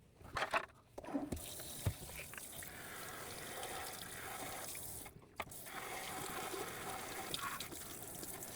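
Running water from a tap or hose washing out a Dreame X60 Ultra robot vacuum dustbin, a steady gushing splash with a few brief interruptions and clunks as the bin is moved, fairly close.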